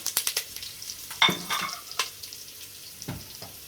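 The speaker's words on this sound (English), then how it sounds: "Next we'll get in curry leaves, 15 to 20 of them. We'll leave them cracking away now." Curry leaves and fenugreek seeds crackling in hot oil, close sharp pops and sputters in quick clusters at the start, then scattered crackles and a soft sizzle, with faint utensil clinks.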